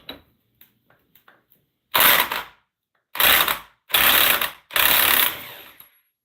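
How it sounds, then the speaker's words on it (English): A ratchet loosening the counterbalancer on a WR450 motorcycle gives four quick, loud bursts of clicking with short pauses between them. A few faint taps come before the bursts. "So I'm going to go ahead and get the counterbalancer loosened first"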